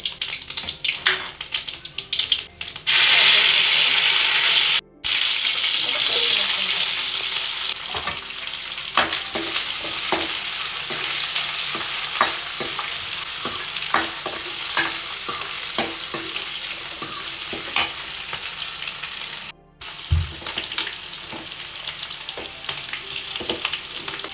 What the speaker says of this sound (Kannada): ಸಾಸಿವೆ ಹಾಗೆ ಸ್ವಲ್ಪ ಹೆಂಗೆ ಹಾಕ್ಕೊಳ್ತಾ ಇದ್ದೀನಿ